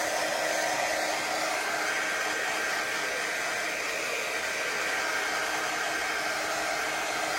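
A hair dryer blowing steadily to dry silkscreen stencil paste in a craft project, a constant loud whooshing hum with no pauses and no voices.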